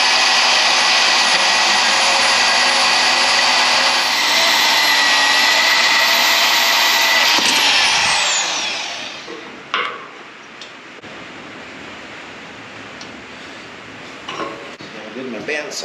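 A bandsaw cuts through steel bar stock while fixing a farm spreader, giving a loud, steady, high-pitched whine that stops abruptly about halfway, followed by quieter clanks and handling noises.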